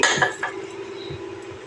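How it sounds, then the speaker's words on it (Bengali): A metal wok set down on a stovetop, giving a few short clanks and scrapes near the start, then a steady low hum of the burner in a home kitchen. "এখানে দেখো কড়াই বসিয়ে দিচ্ছি"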